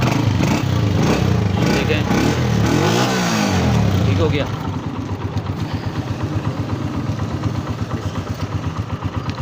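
A Honda CG125 motorcycle engine runs steadily nearby after a self-start magnet seal leak repair, revving loud at first, then settling into an even, rhythmic idle chug while someone talks over it.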